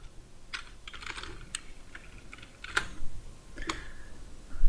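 Typing on a computer keyboard to enter a search in a Chrome browser, a few short bursts of close, crisp key clicks separated by pauses.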